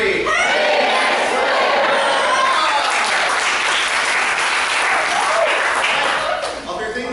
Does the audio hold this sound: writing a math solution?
no